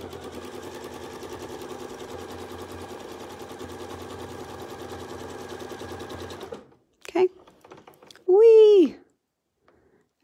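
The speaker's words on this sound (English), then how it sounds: "and then I'm ready to sew" A domestic sewing machine stitches an edge-to-edge quilting pattern, running steadily for several seconds at close range, then stops, leaving a few brief handling noises and a short burst of talk.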